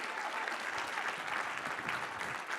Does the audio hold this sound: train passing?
no